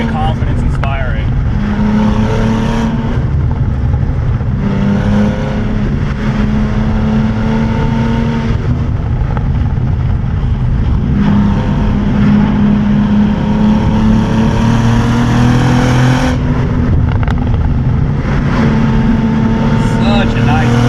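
A 2022 Cadillac CT4-V Blackwing with a six-speed manual, engine revving hard and dropping pitch through quick upshifts on a winding road, loud in-cabin drone with rising and falling tones throughout.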